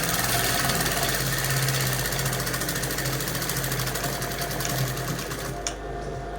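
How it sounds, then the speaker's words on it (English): A sewing machine runs continuously at close range while sewing down a front zipper. Its loud, fast mechanical whir and needle clatter stay steady throughout, with a slight drop in level near the end. "All right, then you are now going to sew down."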